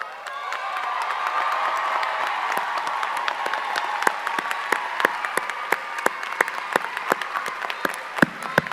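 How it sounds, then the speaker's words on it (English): Large crowd at a high school graduation ceremony applauding steadily, dense sustained clapping with scattered louder individual claps and some faint cheering. "Thank you for giving these heroes and heroines your support and a round of applause."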